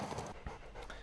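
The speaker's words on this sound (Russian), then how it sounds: "Эта немецкая овчарка вот-вот сорвется с поводка и набросится на злоумышленника" A German shepherd at a working-dog competition at a correctional colony pants after clearing a barrier, quick breathy huffs repeating steadily and close for about a second with no talk.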